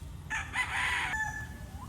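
A single loud, close crow from Princess Althea's rooster, a Claret gamefowl line. The call rises, holds a long strained middle and trails off over about a second, with quiet background around it.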